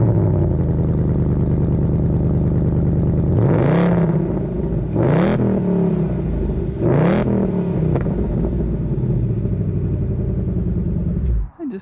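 A 2020 Ford Mustang GT with 460 horsepower holds a loud, steady idle, then revs sharply three times in rising and falling bursts before the engine cuts off abruptly.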